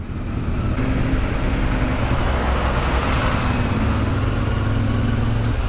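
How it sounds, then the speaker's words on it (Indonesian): Dense road traffic in a city jam fills the scene with a constant low rumble of engines, steady and close, with no gaps. "Oh, sudah mulai macet, saudara-saudara."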